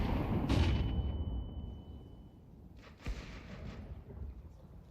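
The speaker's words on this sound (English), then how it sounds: "Grenade out." A grenade explodes in Counter-Strike 2 with a loud, booming blast that rolls off into a rumbling tail, followed by a second, softer thud a few seconds later.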